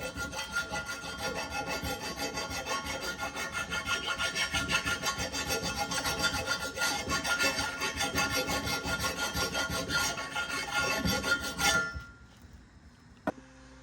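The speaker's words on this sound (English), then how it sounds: "this surface that the hub will sit, you just wanna take a file and make sure it's nice and clean as well." A hand file rasps back and forth over the hub seating surface of an Audi A6 Quattro wheel bearing housing, producing steady, close scraping strokes for about twelve seconds before stopping, followed by a faint clink.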